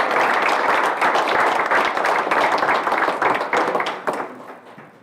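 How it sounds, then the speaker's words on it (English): Applause from a graduation audience for the graduates, dense steady clapping that thins and fades out toward the end. "All right, another round of applause."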